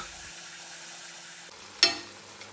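Spicy jowar-flour puris frying in hot oil, a quiet steady sizzle that swells into a short burst of crackling as dough meets the oil, then settles back to a soft bubbling.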